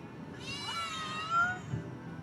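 Cats meow in the video game Final Fantasy VII Rebirth, a few rising, drawn-out mews close up, heard alone over a quiet game background.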